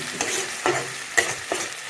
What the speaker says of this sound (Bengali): তেল রেডি এখন আমি দেবো মশলা মশলাটি লাল হয়ে গেলে